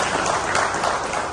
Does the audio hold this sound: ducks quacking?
no